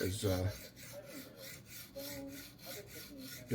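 A knife is sharpened on resin-bonded diamond stones in a TSPROF Alpha guided system, giving several short, dry rasping strokes in an uneven back-and-forth rhythm, close and moderately loud.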